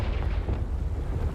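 A Confringo fire spell erupts in the Hogwarts Legacy video game, a dense, sustained rumbling blast with heavy low-end roar filling the whole moment, loud and close with no talk over it.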